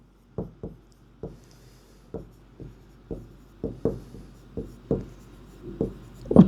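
A marker taps and strokes across a classroom board in short, sharp, irregular touches, close and distinct, with a quiet background and no talking.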